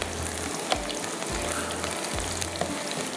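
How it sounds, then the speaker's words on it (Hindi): Onions sizzle and crackle in hot oil while frying for handi gosht, a loud, steady frying hiss broken by soft stirring thumps at regular intervals. "यहाँ पर प्याज को फ्राई करते हैं।"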